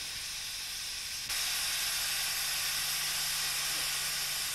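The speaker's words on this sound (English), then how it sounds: "that is the steam engine and the travelling thrashing machine, would come to Maist Ferns and Crafts to thrash the rocks of corn" Steady loud hissing and low hum from an old steam engine driving a travelling threshing machine on a farm, growing louder after a short gap, with no talk over it.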